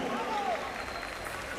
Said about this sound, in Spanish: Venga, más fuerte ese aplauso que se escuche esta tarde.